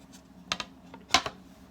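The number 18 written by hand, one stroke then another, heard as two quick pairs of soft scratchy strokes that are close and quiet, with nothing else around them.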